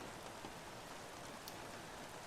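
Heavy rain pours in the F1 2016 racing game at the Belgian Grand Prix, a dense, even hiss that stays constant throughout without a break.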